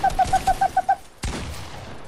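Rapid burst of seven evenly spaced gunshots from a Fortnite box fight, sharp and close, followed by a heavier single blast and a fading tail; no talking.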